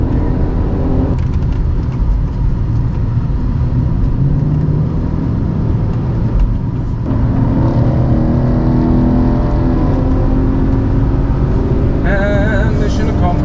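A Ford Mustang cruising a cool down lap on a race track, heard as a loud, steady engine drone and road rumble from inside the car, with small shifts in pitch and a brief change near the end.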